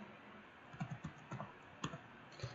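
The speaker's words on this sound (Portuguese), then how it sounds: "Seu JJ, mas toda hora tem que ficar digitando esse negócio de namespace" Computer keyboard typing out programming code in Visual Studio, a quiet run of irregular close key clicks, a few keystrokes bunched together with brief gaps between.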